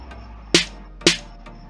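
Two sharp, bright snare hits about half a second apart in an electronic music track, each with a short noisy tail over a low sustained bed, plus faint ticks between them.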